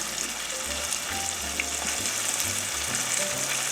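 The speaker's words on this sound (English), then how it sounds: "You can hear that sizzle." Green tomatoes sizzle steadily in a hot frying pan, a continuous crackling hiss with small pops, close and fairly quiet.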